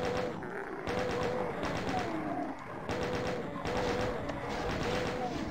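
A chain gun in Doom, on the Sunder map, fires steady rapid bursts that run almost without a break, with thuds of impacts mixed in.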